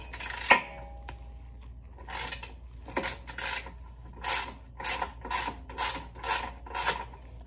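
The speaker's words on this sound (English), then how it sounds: "I'm gonna try to get a wrench in." A wrench ratchets in short bursts on a bolt of a 2007 Toyota Solara rack and pinion, quick metallic clicking strokes repeating close up with brief pauses between.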